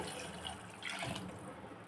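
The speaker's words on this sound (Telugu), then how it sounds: "ఇప్పుడు 2 గ్లాసెస్ వాటర్ పోసాను." Water pours into a pot of frying tomato rasam, a quiet, steady rushing splash with a brief surge in the middle, heard faintly and alone.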